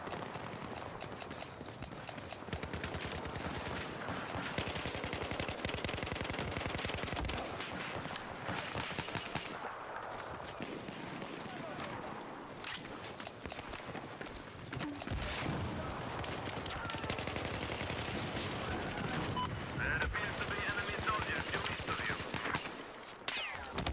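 Video game gunfire, dense bursts of rapid shots and automatic fire crackling almost continuously, loud and close, with no talking.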